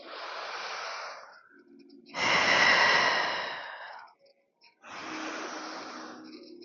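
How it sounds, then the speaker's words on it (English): Deep breathing while holding a Pilates glute bridge, long audible breaths in and out, close and fairly loud, with short gaps between them. "2 big deep breaths in the bridge."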